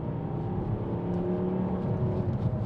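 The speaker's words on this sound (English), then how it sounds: "the engine sound in the 5-cylinder" A 2013 Volvo V40 Cross Country D3 with a 2.0-litre five-cylinder diesel and six-speed manual gearbox, heard from inside while driving: a low, steady, throbbing engine drone with a faint whir, fairly quiet and alone.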